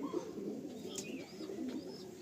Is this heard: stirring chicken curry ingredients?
no